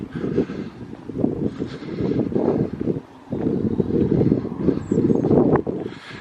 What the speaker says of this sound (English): it's enough wind that you can't probably hear me on here